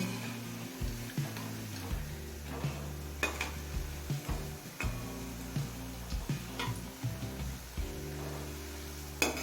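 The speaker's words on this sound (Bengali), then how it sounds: "এবার মিডিয়াম ফ্লেমে বড়াগুলো কিছুক্ষণ ভেজে নেব" Susni greens fritters fry in a wok over medium flame with a soft, quiet sizzle, punctuated by repeated light clicks and taps of a utensil against the pan.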